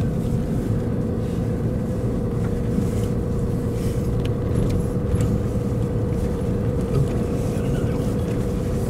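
A $100,000 show truck fitted with a rear winch crawls over a rocky Rocky Mountains trail, its engine a constant close drone with light rattles and knocks throughout.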